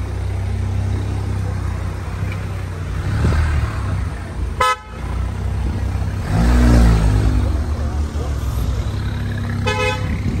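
Volkswagen Golf Mk8 1.5 eTSI R-Line DSG with an Emil exhaust, revving loud and close with a rising engine note and short horn-like toots, as someone talks over it.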